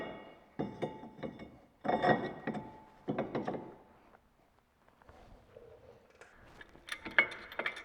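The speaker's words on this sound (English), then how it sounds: "let's go ahead and bolt up our caliper." Wilwood big brake kit caliper being bolted onto a car, with metallic clinks, ratcheting and handling clatter in irregular bursts, close and fairly quiet.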